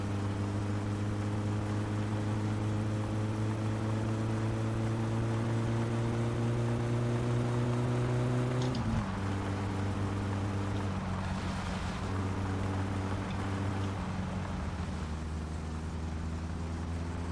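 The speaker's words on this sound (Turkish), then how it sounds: "gidebiliyor araba şu anda" A car in the driving game My Summer Car runs continuously, a loud droning engine with a steady harmonic hum that holds pitch, drops sharply as gears change midway, then carries on at lower revs.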